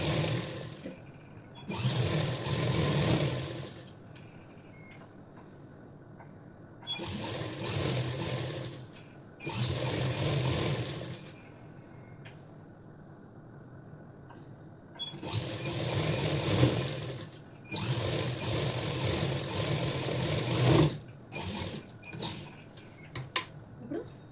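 A sewing machine runs a top stitch along a long frock in several sustained bursts of a few seconds each, whirring loudly and separated by quieter pauses with fabric handling.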